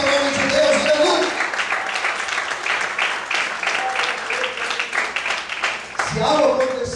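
A church congregation applauds during a service, many hands clapping in a dense, continuous wash under a speaking voice, with a louder burst near the end.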